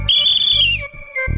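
A single shrill, sustained whistle blown from someone's throat in a Hindi children's fantasy TV show, loud and close, holding one high steady pitch before sliding down and fading, with a brief low thump at the end.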